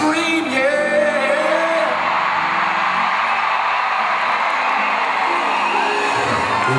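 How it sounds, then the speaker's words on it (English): A concert audience at a southern soul show screams and whoops loudly for the singer in a sustained roar of shouting voices that builds up and fills the hall. "I ain't singing nothing until everybody in the house scream, yeah."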